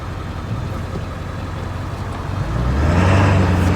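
A 7.3 diesel truck with a Hydra tune, its engine droning steadily and then rising in a throttle rev toward the end, loud and close with a deep rumble.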